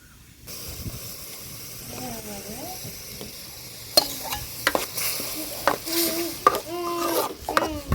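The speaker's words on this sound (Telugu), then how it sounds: "మిక్సీ పట్టిన టమాటా పండ్లు ఇందులోకైతే వేసుకుందామండి" Blended tomatoes fry in a pan for fish curry, sizzling softly while a spoon scrapes and stirs in short, sharp bursts.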